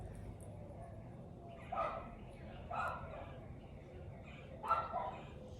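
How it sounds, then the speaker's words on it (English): A pet dog barks a few times at a distance, three short separate bursts at moderate loudness over steady indoor room noise. "My dog might bark. There he goes."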